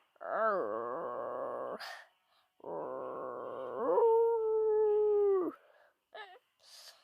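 A person's voice imitates animal cries in a row: a long rising-falling roar, a second sustained roar, then a steady wolf-like howl, ending with a few short squeaky cat-like calls; loud and close with no other sound.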